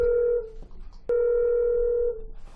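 A telephone rings out on a call to the city hall in Red River, New Mexico: two long, steady electronic ring tones separated by a short pause, clear and close.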